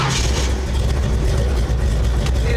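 Engine of a 1970 Ford Falcon that has just fired up runs at a steady, loud, rumbling idle close by, with no voices over it.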